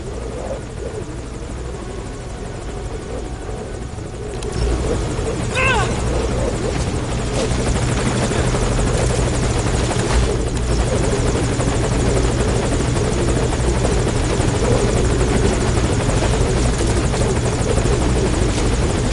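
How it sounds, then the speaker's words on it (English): A helicopter in the stealth game Metal Gear hovers nearby with a loud, steady rotor whir and engine drone that grows slightly louder partway through and fills the whole stretch. "Put the target on the chopper."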